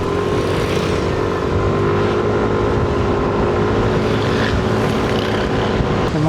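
A Yamaha Nmax V3 scooter fitted with a 1000-RPM center spring drones steadily while riding, its engine hum constant and loud under heavy wind rush throughout.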